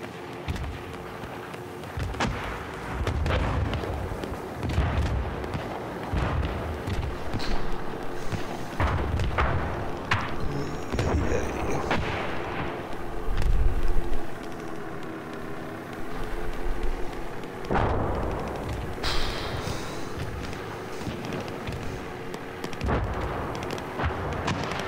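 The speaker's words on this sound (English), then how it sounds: "Dropping in 320 rounds." Artillery rounds exploding during a raid in a military video game, a rolling series of heavy booms and thuds, some near and loud, others distant, over a continuous rumbling battlefield backdrop.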